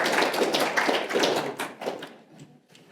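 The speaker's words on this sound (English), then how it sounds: "Claps, snaps, all of the above." An audience at a poetry reading in a Duluth venue welcomes a featured poet with dense, loud applause and finger snaps, a continuous patter that thins out and fades near the end.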